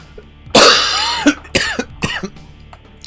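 A person coughs, one long harsh hacking cough followed by two or three shorter throaty coughs, close and loud with brief pauses between them.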